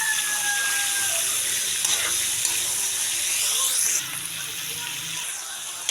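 Pork meat sizzles in a pan with sautéed garlic and onion for menudo, a steady, bright frying hiss held close, easing slightly partway through.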